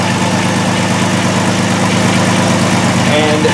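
A 2002 Volkswagen Jetta VR6 with fuel injector circuit faults and a misfire idles steadily close by, a continuous engine drone with a constant low hum filling the whole stretch, no spoken words over it.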